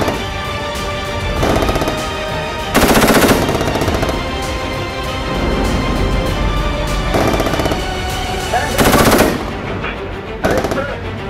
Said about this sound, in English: When the gunner fires the tank's main gun, the crew gets shook hard every time.